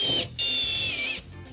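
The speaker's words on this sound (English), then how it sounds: "Let's start drilling." A power drill whines at high pitch in two close bursts with a short gap between them, set up while building a hidden PC cabinet.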